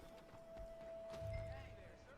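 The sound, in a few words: horse neighing and hooves, video game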